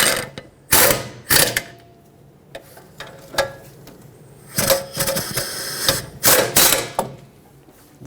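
A ratchet snugs the bracket bolts on the rear brakes of a Dodge Grand Caravan. Short bursts of sharp, close clicking come in several separate runs with quiet pauses between them.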